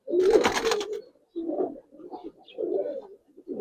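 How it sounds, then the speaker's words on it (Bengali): A pair of silver pigeons coo close up in a series of throaty rolling phrases separated by short pauses, with a noisy rustle at the start and no speech. "একজোড়া সিলভার দেব কবুতর দেখেন ভাই"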